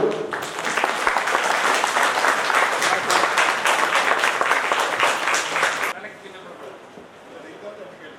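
Vigorous audience applause at a Voters Day programme where senior citizens are honoured by the district collector, loud rapid clapping for about six seconds that stops abruptly, leaving a quieter room with some voices.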